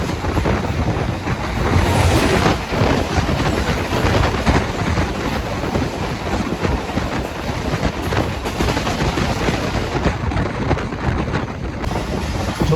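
The 151UP Shah Latif Express travels at speed, heard from on board as a loud, continuous roar of rumbling wheels and rushing wind buffeting the microphone, with no voices.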